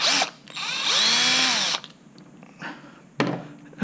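A power drill whines in two bursts while backing a bolt out of a motorcycle top box mount, up close, the first burst long and rising, followed by short clunks and a brief final spin.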